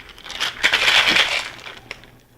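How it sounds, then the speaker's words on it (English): Ice rattles hard inside a cocktail shaker, a dense rhythmic clatter for a grapefruit Pamplemousse cocktail, loud and close, swelling then fading. "Add about 1 cup or 2 of ice to your shaker cup. And then shake this vigorously for about 30 to 45 seconds."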